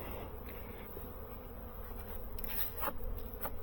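Honeybees hum steadily in a hive just out of winter, a close, continuous buzzing drone with small shifts in intensity and faint handling knocks near the end.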